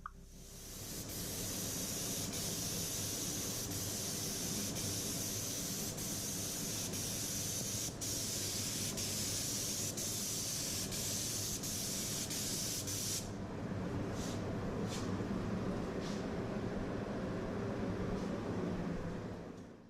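A spray gun lays a thick second coat of paint on a 2013 Cadillac Escalade, hissing steadily and close for about 13 seconds, then giving several short bursts as it is triggered on and off.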